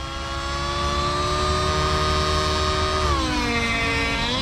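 A nitro-powered RC helicopter engine runs loud and steady at high head speed, a sustained harmonic whine that holds, then dips slightly in pitch and settles near the end. Nobody speaks.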